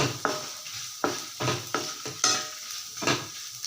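Dried red chillies frying in oil in a pan, loud close sizzling broken by repeated spoon strokes about every half second as they are stirred.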